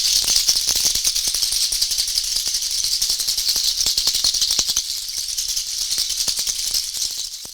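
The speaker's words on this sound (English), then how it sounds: "Traditionally, rattles have been used to break up stuck energy." A rattle is shaken steadily and close up, a dense continuous hiss of beads or seeds with rapid rhythmic pulses that swell and ease, playing alone for several seconds.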